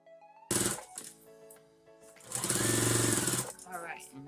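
A sewing machine top stitching a tutu, with a fast whirring run of stitches that starts abruptly, pauses, then resumes louder, and a voice heard around it.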